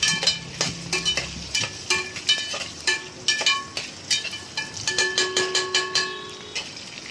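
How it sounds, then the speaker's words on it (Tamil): Onions fry in oil for chicken biryani, heard as a quiet sizzle under repeated close metallic scrapes and clinks of a utensil against the pan, in an irregular stirring rhythm. "ஆனியன் நல்லா ப்ரௌனிஷ் கலரில் வர வரைக்கும் நம்ம அதை ஃப்ரை பண்ணி எடுக்கிற வரைக்கும் அந்த இது எண்ணெயிலே பொரியட்டும்"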